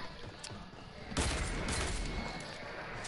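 Dual pistols firing in a video game: a burst of rapid gunfire breaks out about a third of the way in, loud and dense, after a stretch of quieter game noise.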